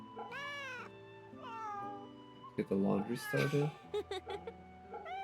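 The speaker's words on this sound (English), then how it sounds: "Cat." A cat meowing in Fate/Samurai Remnant, a couple of rising drawn-out meows near the start, followed by a spoken line over quieter background.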